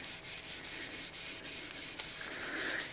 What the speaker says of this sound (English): we're going to pour some of this oil out and just start working it into all the surfaces